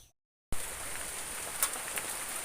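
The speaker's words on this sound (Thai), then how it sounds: "ฝนตกอีกแล้ว ดูฮะ ตกเยอะด้วย" Heavy rain falling outdoors near a treehouse build, a dense even hiss that starts abruptly after a half-second of silence and continues steadily with a few louder drips and spatters.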